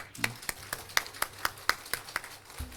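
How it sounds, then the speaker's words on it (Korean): Clapping from a church congregation at a Sunday service, heard as a quiet, evenly spaced series of individual claps roughly every quarter second, fairly faint with a soft background murmur. "박수 좀 세게 치세요."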